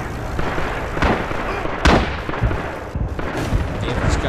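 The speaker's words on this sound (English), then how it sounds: "Artillery incoming." Artillery fire and explosions in the World War II shooter Rising Storm 2 during an Iwo Jima invasion match, a continuous dense battle din with several sharp blasts and heavy booms, loudest near the two-second mark.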